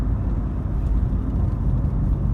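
A car driving on a road heading into the Peak District, heard from inside as a loud, steady low rumble of engine and road noise with no talking.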